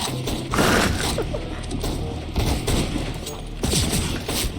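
Rapid automatic rifle fire in CS:GO, repeated bursts of gunshots layered with busy game noise, close and loud, with a player talking over it.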